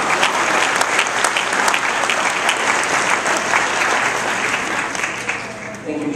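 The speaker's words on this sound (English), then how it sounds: "They need a big round of applause as well" A crowd at a community event claps for its volunteers and co-chairs, loud and dense. Individual claps stand out near the front, and the applause runs steadily for six seconds before starting to thin.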